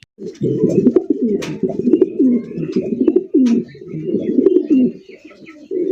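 Several pigeons coo continuously and close by, their low throaty calls overlapping in a steady rhythm with a few faint chirps.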